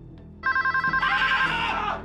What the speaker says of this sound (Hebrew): שקט, זה הטלפון, תרגעו!